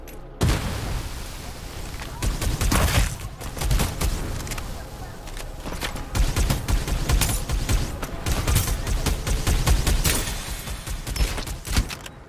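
Dense gunfire from the Farlight 84 battle-royale game, with rapid bursts, booming blasts and explosions layered almost continuously over about twelve seconds, loud and close, with brief game voice lines mixed in.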